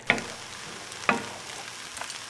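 Buckwheat kasha in a pot of salted liquid, gentle bubbling with two distinct soft pops or spits standing out over a quiet, steady background hiss.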